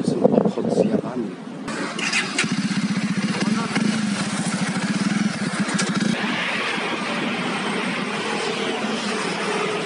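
Motorcycle engine droning steadily on a ride in Vietnam, a continuous close buzzing with wind noise that runs the whole way, with a voice talking over it at the start.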